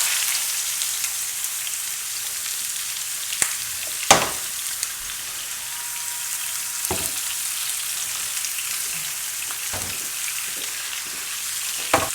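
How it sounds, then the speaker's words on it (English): Seasoned pork for BBQ beer pulled pork searing in a pan before going into a pressure cooker, giving a steady, close hiss of sizzling fat with occasional sharp knocks and crackles, and no one speaking. "We're going to sear it real quick before we put it in the pot"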